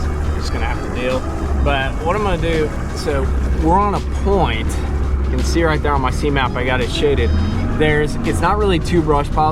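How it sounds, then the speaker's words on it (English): A bass fishing boat's motor runs with a steady low rumble on Lake Lanier, beneath someone talking continuously in the foreground. "I apologize for the motor noise."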